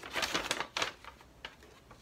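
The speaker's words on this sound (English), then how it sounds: "take your scissors and you just want to cut open one end" Quick crisp snips and crinkles of scissors cutting open one end of a paper bag, a few rapid cuts close up followed by a couple of lighter clicks.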